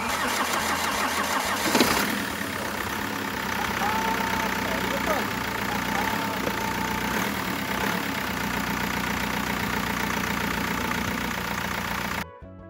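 A BMW E60 with an M47 2.0 diesel engine cranks and fires, then settles into a steady, clattering diesel idle that runs close and evenly for about ten seconds before cutting off.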